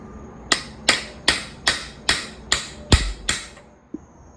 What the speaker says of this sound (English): I got my homemade star nut driver here. And now I'm going to drive it onto the top of this tube.